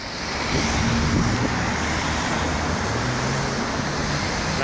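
Light Sunday street traffic in Gangnam, Seoul, forms a steady moderate roar of passing cars heard from the roadside, with engine hum rising and falling and no voices.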